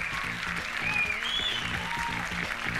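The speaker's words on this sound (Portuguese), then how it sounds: "Pode aplaudir, quero ver" An audience claps in sustained, even applause, with a voice speaking briefly over it.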